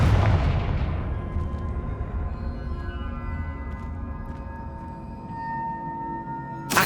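The Confringo blast spell in Hogwarts Legacy fires with a sharp, loud explosive burst at the start, then a long, fading rumble and ringing tail with small crackles, ending on another brief pop.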